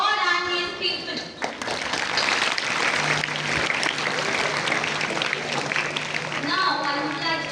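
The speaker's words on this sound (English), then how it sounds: "Let us give a big clap to celebrate this silver jubilee" Applause from a school audience at a convent school feast-day celebration, steady broadband clapping filling most of the clip, with speech heard briefly at the start and end.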